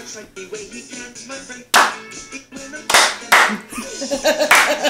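A group clapping in rhythm on beats 1 and 4 over music with a bass line, sharp loud claps in bursts, with some voices mixed in.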